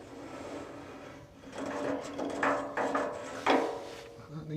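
An adjustable reamer works a hole during a Series Land Rover restoration, producing close metallic grinding and scraping in uneven surges over a steady workshop hum, with brief clinks.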